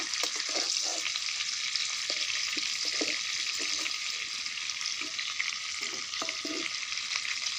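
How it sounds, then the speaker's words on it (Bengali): Pieces of fish frying in mustard oil in a pan, a dense, steady sizzle with occasional soft stirring and turning sounds, close and continuous with no voices. "সর্ষের তেলে মাছগুলোকে একটা একটা করে ভেজে নিয়েছি, এপিট ওপিট করে ভালো করে।"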